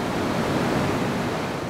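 Ocean surf crashes through the blowholes in the rock at Mughsail, on the Oman coast west of Salalah, where high waves force water fountains upward: a loud, steady, broadband roar of wash and spray with no voices.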